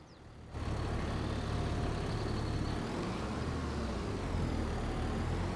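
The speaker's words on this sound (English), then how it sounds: "sometimes it's hard to push these bales because our tractor likes to drive on top of them" Tractor in the video game Farming Simulator 22 pushing bales: a steady, low engine drone that starts abruptly and holds at an even level with no talk.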